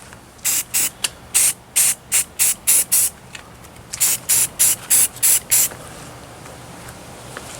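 Short bursts of flat black Rust-Oleum spray paint hiss from an aerosol can onto a Hammarlund HQ-129X radio case, about a dozen close, loud sprays in two quick runs, then quiet.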